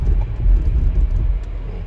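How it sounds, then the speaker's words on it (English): A 2023 Range Rover SE with an inline six and snow tires brakes hard on solid ice, a dense low rumble and rattling racket from underneath, close and loud for about two seconds. "Let me just punch the brakes."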